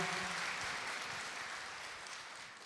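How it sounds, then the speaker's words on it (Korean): Applause breaking out in a church during a Sunday worship service after a special song, a soft, steady patter of many hands heard at a distance that fades slightly toward the end. "생각지도 않은 박수 소리가 나가지고"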